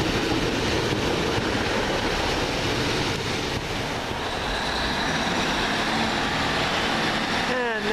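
A First Transpennine Express train from Hull to Manchester Piccadilly rolls into Huddersfield station, a steady broadband rumble of wheels and engine filling the platform, with faint squeals near the end as it slows.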